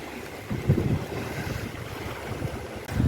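Baitarani River water rushes through the Anandapur barrage in heavy rain, a steady broad roar with gusty wind buffeting the microphone, loud and continuous with no voices.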